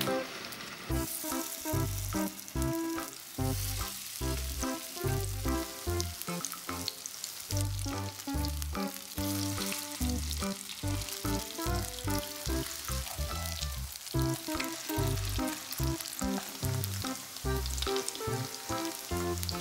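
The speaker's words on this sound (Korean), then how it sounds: "그리고 프라이팬에 구워주시면 됩니다." Korean meatball patties (donggeurangttaeng), shaped from a meat mixture bound with eggs, fry in a pan with a steady crackling sizzle. Small pops come through close up, continuous throughout, with no talking.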